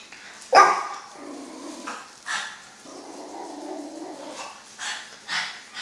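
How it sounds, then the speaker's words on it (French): A guard dog barks near the house, one loud sharp bark followed by several shorter barks and yips spread across the clip, with some whimpering between them and no talking. "il y a mon chien de garde qui protège la maison."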